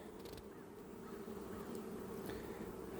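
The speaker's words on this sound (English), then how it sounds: "See some young bees in there." Honey bees buzzing over a brood frame lifted from a hive during a split transfer, a steady, close drone of many insects with no talking.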